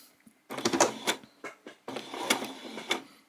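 A sewing machine runs in two short bursts of rapid needle clatter while sewing a back stitch on a peasant top, close and clear with a quiet pause between.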